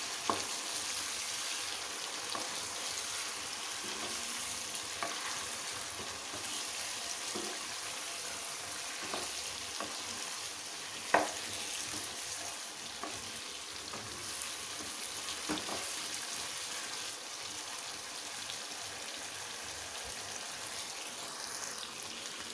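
Chicken karahi, Peshawari charsi style, stirred in a wok: a steady broad sizzle and frying hiss runs throughout with occasional soft clicks of stirring, one sharper knock midway, no voices.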